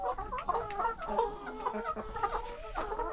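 Chickens in a backyard coop cluck repeatedly, a close, busy string of short clucks and murmurs from several hens with no talk.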